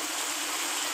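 A glass of water is poured into a fully fried egg masala gravy in a pan, giving a brief, steady rushing splash that stays even and fairly quiet throughout.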